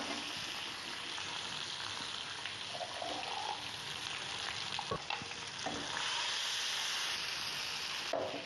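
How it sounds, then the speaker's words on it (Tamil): A ground spice paste fries with cumin and curry leaves in hot oil, a steady close hiss and sizzle with occasional stirring scrapes, alone without talk. "சீரகம், கருவேப்பிலை, இப்போ இந்த அரைச்சி வச்சிருக்க விழுதை இதில் ஆட் பண்ணிக்கலாம்."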